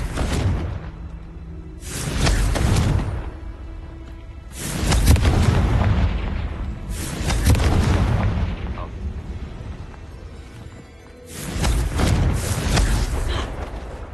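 Confringo explosive spell blasts in the Hogwarts Legacy video game, several heavy booming bursts of fire a couple of seconds apart, with some talk between them.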